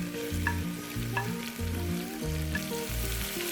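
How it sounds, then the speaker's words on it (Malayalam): Sliced onion frying in hot oil for a quick pressure-cooker biryani: a continuous loud sizzle with rhythmic stirring scrapes and light clicks of the spoon, close and without talk. "സവാള ചേർക്കാം."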